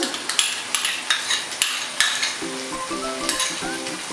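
Chicken varattiyathu masala sizzles in a pan while a spoon stirs and scrapes it in quick, irregular strokes, close and clear, with a light metallic tap now and then.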